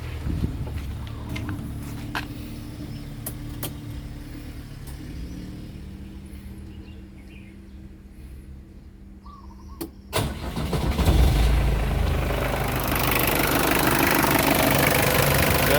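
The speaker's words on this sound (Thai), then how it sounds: "ดี๋ยวลองมาฟังเสียงเครื่องยนต์นะครับ" Nissan 720 pickup with the SD23 diesel engine, starting with clatter and knocks, then idling steadily before revving up loud and rough toward the end, recorded close by.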